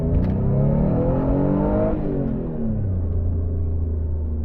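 An Alfa Romeo GTV V6 Cloverleaf (Type 916) engine revs loudly and climbs in pitch, then drops back and settles into a steady, deep drone up close.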